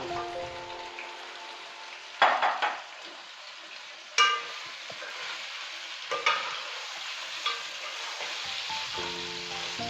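Meat being fried and stirred with light golden onions in a pot, a steady sizzle broken by a few loud scraping stirs, close and alone with no talk.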